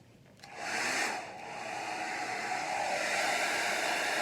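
A hair dryer on its cool setting switches on after a brief quiet moment and blows steadily, a loud airy whoosh with a faint tonal whine, running without pause.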